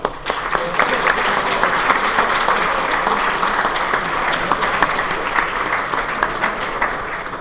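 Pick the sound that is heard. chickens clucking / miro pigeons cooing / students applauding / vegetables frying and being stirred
students applauding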